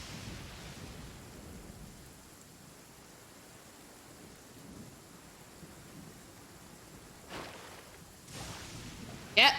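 Rain and thunder in the Genshin Impact video game: a faint, steady rain hiss with a low rumble, then two short, louder thunder bursts near the end.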